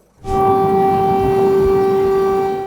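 A loud air raid siren wail starts abruptly and holds a steady, sustained tone throughout, close and dominant with no talking.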